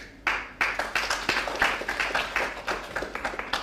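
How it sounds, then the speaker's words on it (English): Light, scattered golf clap from a small group at a magic show, a polite patter of claps lasting a few seconds. "Thank you for the golf clap on this one"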